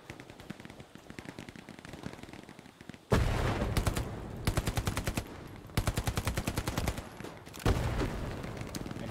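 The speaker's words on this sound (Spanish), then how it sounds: "Me disparan por la espalda." Automatic gunfire in the Hell Let Loose video game rattles out in several loud, rapid bursts separated by short pauses, after a quieter stretch of distant shooting.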